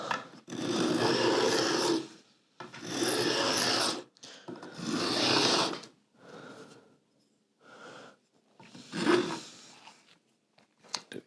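A file rasps a bevel into a piece of wood in long, loud strokes, several sustained passes followed by shorter, quieter ones, close up and with no talking.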